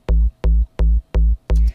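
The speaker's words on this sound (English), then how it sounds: "this is called the dance bass" Five short, punchy synth bass notes from Sample Logic Tronix's dance bass patch with the EQ switched off, evenly spaced and loud, each with a sharp attack and full low end, the last one trailing a brighter tail.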